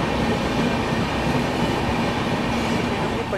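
Rajdhani Express overtaking, heard from aboard the Magadh Express: a loud, steady roar of rolling train wheels and rumbling carriages that holds for the whole stretch, with no talking.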